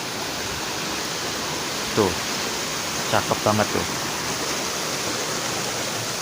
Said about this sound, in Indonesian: ini aliran sungainya bening banget nih